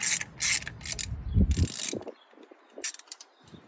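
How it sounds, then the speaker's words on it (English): A ratchet with a 5/8 socket breaks spark plugs loose on a 2010 Mazda 3 with the valve cover off, giving bursts of close, sharp clicking separated by short pauses. "I'm going to go ahead and use a 5/8 socket on these plugs and go ahead and break these loose"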